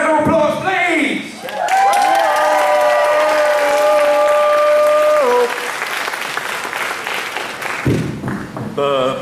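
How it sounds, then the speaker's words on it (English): An audience at an anime convention quiz show welcomes the first contestant with loud, sustained applause, while drawn-out tones ring over the clapping and it fades into chatter near the end. "Please welcome our first contestant. Round of applause, please."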